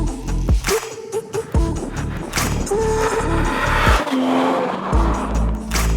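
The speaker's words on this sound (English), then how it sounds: "to get a noise like this from a twin-turbo V12 is pretty special" An Aston Martin DB11 AMR twin-turbo V12 accelerates hard, its loud roar rising in pitch through several quick gear changes with brief drops between them, close by.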